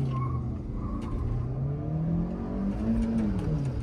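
Two cars, a stock-versus-tuned Skoda Kushaq and Kia Carens with 1.0 and 1.4 turbo engines, accelerating side by side in a drag race. Engines drone and climb steadily in pitch at full throttle in third gear, loud and continuous, with no talk.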